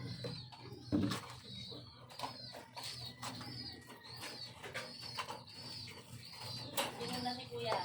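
A pet pigeon with a cold coos in repeated soft calls, with occasional wing flaps and rustling nearby, under low ambient noise.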